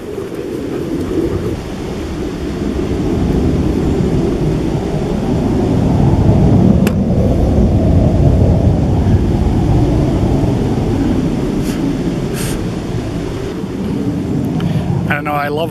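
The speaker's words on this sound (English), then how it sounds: "apparently somebody is practicing for 4th of July acrobatics" An aerobatic airplane practicing over wilderness gives a broad, rumbling engine drone that swells in the middle and stays fairly loud throughout, mixed with outdoor ambience.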